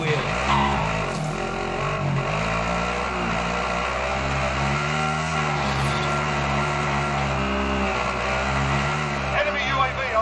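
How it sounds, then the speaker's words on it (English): A light vehicle drives in the video game Warzone, its engine droning steadily and loudly with shifting pitch and some rumble throughout, while voices talk over it. "Light vehicle over here."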